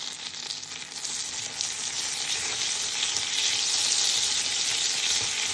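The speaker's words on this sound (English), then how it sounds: "I'll go in with 2 teaspoons of coriander seeds, and what I'm looking for is like a popping" Two teaspoons of coriander seeds fry in hot butter in a home kitchen, giving a dense, continuous crackling sizzle that holds steady and close throughout, with no talking.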